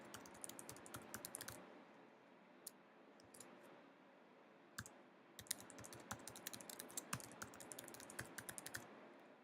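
Rapid bursts of typing on a computer keyboard as an email address is entered, with clustered clicking keystrokes, a brief pause near the middle, then denser typing continuing to the end, close and fairly quiet.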